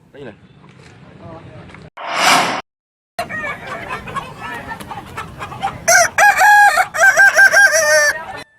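Balengge roosters crow at a crowing contest in Padang, West Sumatra, sounding several loud, drawn-out, warbling calls one after another, with a news narrator talking over the birds.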